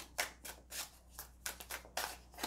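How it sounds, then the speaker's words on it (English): Tarot cards are shuffled by hand in a rapid series of crisp riffling bursts, close and fairly quiet, repeating in an uneven rhythm with no talking. "So now we are all done with our shuffling."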